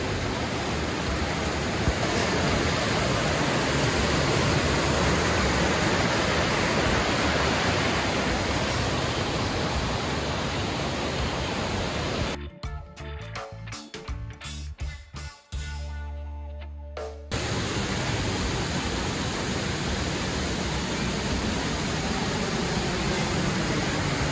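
Waterfall in Jamaica roaring as a loud, steady broadband rush that fills the whole clip, briefly broken by a few seconds of handling thumps before the constant pour returns, with no talk.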